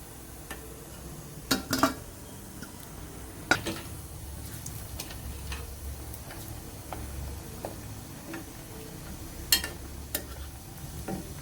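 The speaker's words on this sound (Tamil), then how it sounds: "இப்போ ரஸ்கை ஃப்ரை பண்ணி எடுத்துக்கிடுவோம்." Rusk pieces frying in hot oil in a pan, a quiet steady sizzle with occasional sharp clicks and taps of utensils against the pan.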